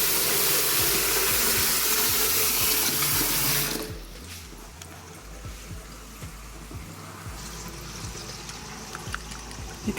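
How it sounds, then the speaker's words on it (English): Water pours fast from a tap into a sink in a fixer-upper house and drains slowly, a loud broadband rush for four seconds that drops to a quieter trickle and gurgle. "water collects so fast. Doesn't look like it's draining well."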